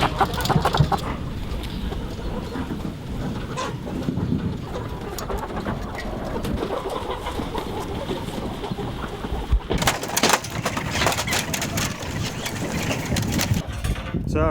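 Twelve hundred chickens crowd a barn, keeping up a dense, continuous wash of clucking and bird chatter with a steady hiss beneath it and a few louder rustling bursts.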